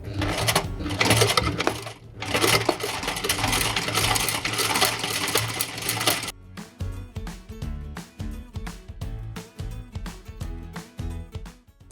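A sewing machine stitches a chopping-style embroidery pattern, its foot pedal pressed gently: a long burst of loud, fast whirring, a brief gap, then a more stuttering run of rapid stitch clatter up close.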